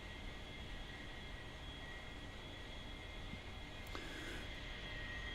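A military aircraft taxis in a Cold War combat game, a steady droning engine hum with a constant broadband roar and a brief click partway through.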